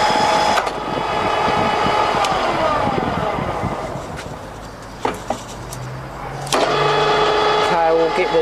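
An HMT RM62 radial drill runs with a steady motor whine and gear hum. Sharp mechanical clicks and clunks sound as the feed is engaged and changed, with one louder knock near the end.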